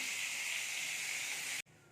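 Potatoes frying in a pan in a home kitchen give off a loud, steady sizzling hiss that holds evenly, then cuts off abruptly near the end before a quieter hiss resumes.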